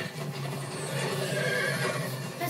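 Horse whinnying in the video game Minecraft Story Mode, a moderately loud neigh over a busy game background with no talk.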